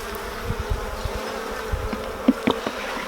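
Honey bees buzz at a frame from a nuc hive during an inspection, a steady close drone with a few louder bursts as individual bees pass near.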